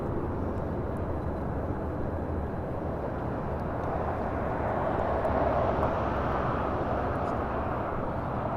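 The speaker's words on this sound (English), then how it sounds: "This is United Airlines 1029 taking off to Denver, Colorado on a" A United Airlines Boeing 737-900ER takes off at LAX, bound for Denver: a steady, broad jet roar holding loud and continuous throughout, swelling slightly toward the middle as the plane passes.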